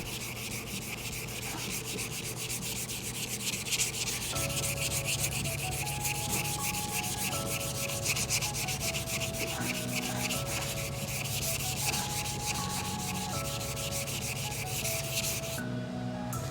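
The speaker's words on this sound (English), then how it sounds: "I just got 400 grit on this block. So we'll go ahead and block this out real quick." A car bumper being hand sanded with a 400 grit block: steady, continuous back-and-forth rubbing strokes, close and fairly loud, with no talking.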